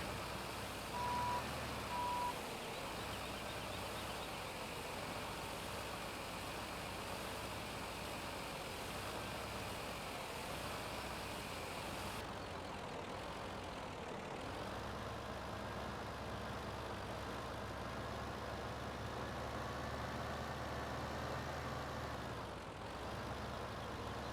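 A GMC truck hauling chaff in Farming Simulator 17 on the Sandy Bay map: a steady, heavy engine drone runs throughout, with a few short reversing beeps near the start and a slight shift in the engine tone midway.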